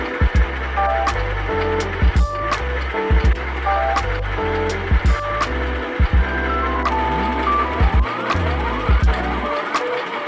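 A sewing machine hems the open edges of fabric in a Korean apartment. It runs in short mechanical bursts broken by clicks and pauses, and the motor's whir rises and falls from one stitch run to the next.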